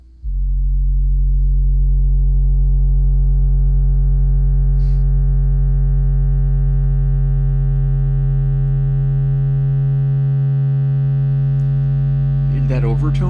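A loud, steady low sine tone drones on with a buzzy overtone that slowly grows harsher and climbs in pitch, with a short crackle near the end.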